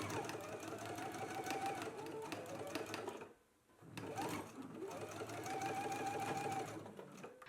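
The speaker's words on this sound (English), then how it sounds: "So let's go ahead and go to the sewing machine and do that first stitch." A sewing machine runs in steady bursts as it stitches bias tape onto a seam allowance for a Hong Kong seam finish, loud and close, pausing briefly midway before stitching again.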